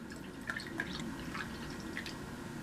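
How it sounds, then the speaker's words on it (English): Stella Artois Cidre hard cider poured from the bottle, a soft steady liquid flow with scattered drips and fizzy bubbling, fairly quiet and close with no voices. "But let's go ahead and pour it."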